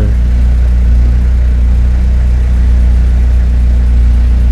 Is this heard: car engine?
yes